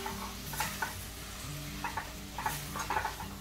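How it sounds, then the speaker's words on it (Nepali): Powdered spices frying with a little water in a pan, a soft sizzle with occasional spoon scrapes and taps, fairly faint and close. "फेरि थोरै 1 चम्चा जस्तो पानी राखेर भुटौँ यसलाई।"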